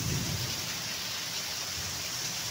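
Heavy rain pours down outdoors during a dark, misty storm with lightning, a steady dense hiss of rainfall that stays even and unbroken throughout.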